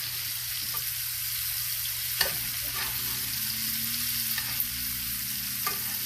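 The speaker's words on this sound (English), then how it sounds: "See all that butter that's going onto the steak?" Ribeye steak sizzles steadily in a pan of butter with rosemary and thyme, a loud, continuous frying hiss with occasional small pops and spoon scrapes.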